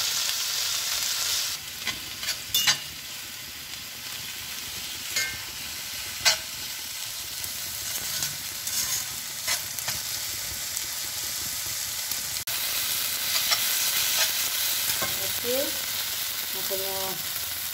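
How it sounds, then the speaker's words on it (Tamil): Tomatoes sizzle and fry in a pan while kottu parotta is made, a steady broad sizzle with occasional sharp scrapes and clinks of a spatula stirring, close and moderately loud, no talking. "இந்த தக்காளி பழமும் இப்போ கொஞ்சம் வதங்கிட்டோம்"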